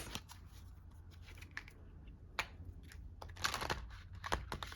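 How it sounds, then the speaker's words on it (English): Tarot cards being shuffled by hand during a full moon reading, a quiet papery riffling with soft clicks and a few sharper flicks, close and faint over a low background hum. "If I can shuffle today."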